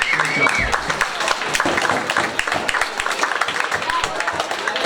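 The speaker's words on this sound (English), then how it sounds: "So please give yourselves a round of applause." Audience applause at a high school winter sports awards night, dense clapping from a crowded room with a voice speaking over it.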